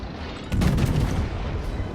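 Forward main guns of the battleship Bismarck fire in the naval video game World of Warships, one heavy booming salvo that rolls on into a long low rumble, loud and close, with no talking.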